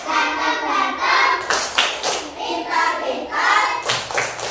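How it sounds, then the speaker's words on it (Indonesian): Rhythmic group clapping from a class of second graders in a primary school classroom, sharp clap bursts interleaved with the children's loud unison chant. "Tepuk kelas 2."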